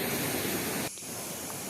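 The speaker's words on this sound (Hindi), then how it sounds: "ये वाटरफॉल में पानी का धार इतना है" Rushing water of the Dwijiri waterfall roars as a steady broadband wash, loud and close, briefly dipping partway through before continuing alone with no talk.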